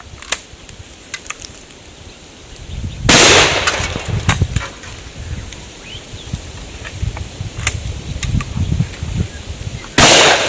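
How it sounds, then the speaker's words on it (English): Modern shotgun shells fired outdoors at a can: a handful of loud, sharp bangs at uneven intervals, with quieter ambient noise and faint outdoor background between shots. "We'll fire them off at that can over there fairly rapidly because we know they're going to go bang"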